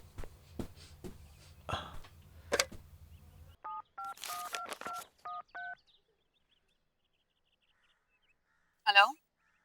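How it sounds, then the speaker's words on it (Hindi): A landline telephone being dialed, with several clear electronic keypad tones in a quick, uneven run after some shuffling and handling noise. A short chirp follows later, and there is no talk over the tones. "मैं आपका फोन यूज कर सकता हूँ प्लीज?"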